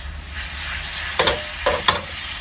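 Demi-glace steak sauce sizzles steadily in a hot pan, with a few distinct scraping stirs of a utensil against the pan surface near the end, no voices.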